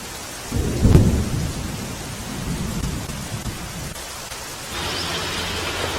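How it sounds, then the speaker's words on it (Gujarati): Heavy monsoon rain pours down in Ran village, Dwarka district, Gujarat, a loud, steady hiss of water with a deep thundery rumble early on and the downpour continuing evenly after it. "ધોધમાર વરસાદ વરસી રહ્યો છે"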